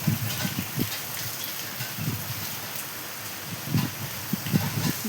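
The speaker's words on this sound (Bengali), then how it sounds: "বৃষ্টি, প্রচণ্ড পরিমাণে বৃষ্টি, বৃষ্টি হয়েই যাচ্ছে, বন্ধ নেই।" Heavy rain falls steadily outdoors in a steady diffuse wash of hiss, with scattered louder drops and patters on nearby surfaces; no voices.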